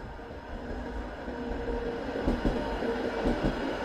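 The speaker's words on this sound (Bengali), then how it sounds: "the tram is coming" A tram pulls in late at night in snowy Finland, a steady low rumble with rail clatter that swells slightly toward the end, heard alone with no talk.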